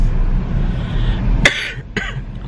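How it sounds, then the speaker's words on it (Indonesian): Two sharp coughs, close by, about half a second apart, over a steady low background rumble. "masih sering batuk-batuk"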